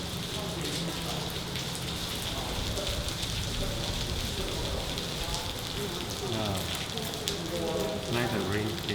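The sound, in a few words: rain falling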